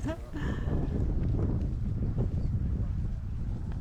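Steady wind at a disc golf tournament buffeting the microphone in a continuous low rumble, with faint voices barely audible in the background.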